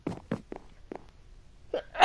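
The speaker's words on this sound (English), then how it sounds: "Now I have to sneeze" A single person sneezes after a few short sharp breaths and nasal catches, close and clear in a quiet room.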